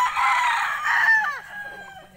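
A rooster crows once, loud and close, in a drawn-out call that trails off. It stands alone with no talk over it.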